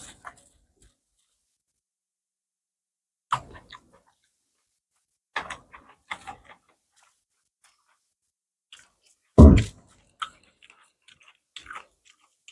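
Homemade chowmein being eaten by hand: sparse, soft chewing and squishing sounds come in short scattered bursts amid long quiet gaps, with one louder close crunchy moment.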